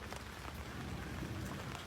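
Rain falling steadily with a dense, even patter on surfaces, a continuous wash of drops close by and no voices.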